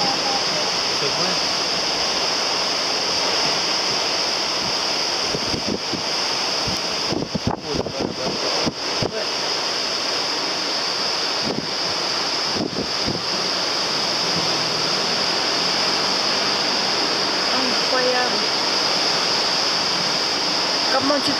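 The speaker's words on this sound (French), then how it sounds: "ça c'est de l'eau avec le vent qui vole là" Strong wind driving water spray and surf during cyclone Dumazile on Réunion, a loud steady roar of wind and crashing water with brief gusty dropouts, heard alone without voices.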